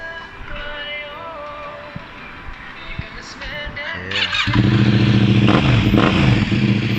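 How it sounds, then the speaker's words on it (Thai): A 2017 Yamaha MT-07 motorcycle with an aftermarket exhaust idles with a rough, throaty note, then grows louder and fuller midway as it revs up close by. "เดี๋ยวฟังเสียงเครื่องยนต์กันนิดนึงเ้อเสียงท่อนะครับ"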